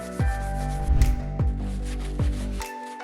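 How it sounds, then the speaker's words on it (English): Filler on the body of a 25-year-old BMW being sanded, with three separate rasping strokes that each start with a scraping attack and then hold a steady rub before the last one stops abruptly. "And I guess sanding again."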